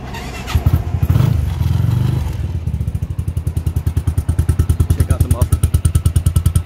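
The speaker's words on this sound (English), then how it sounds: "just hold the brake and twist the electric start with the key" An FX 400 Predator four-seat UTV is started with its electric key start: a brief starter crank, then the engine catches and settles into a steady, close, rapid idle thump.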